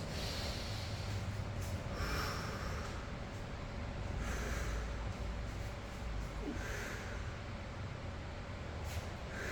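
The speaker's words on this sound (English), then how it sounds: "You can hear me breathing sometimes." Rhythmic heavy breaths in and out, repeating every couple of seconds, close to the microphone over a steady background hiss.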